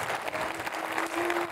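Applause from a seated audience right after a poem reading at a Dutch arts event in Alkmaar, a steady dense patter of clapping throughout the short stretch with no talk over it.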